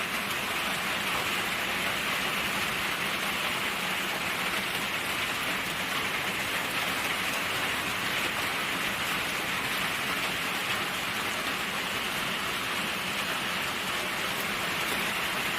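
Rain falls steadily around a small hut in a forest, a dense, even hiss of drops on surfaces that holds at a constant level throughout, with no voices.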